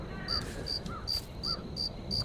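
Crickets in the forest of the game The Cursed Forest chirp in short, evenly spaced bursts, about six chirps at a steady rhythm over a faint background hiss.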